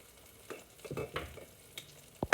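Breakfast food frying in a pan, with soft scattered sizzle, scraping stirs and a few sharp clicks as pieces are flipped, ending in a couple of louder near knocks.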